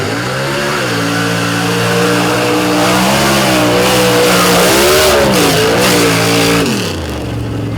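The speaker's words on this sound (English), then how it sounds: "Weston Wiseman at the wheel of Wood Racing's Mudweiser, the 89 Jeep Wrangler" A 1989 Jeep Wrangler race vehicle with 4-link suspension and big coilover shocks revs hard through a soupy mud pit. The loud, close engine rises and falls in pitch through several throttle swells, then drops off at the end.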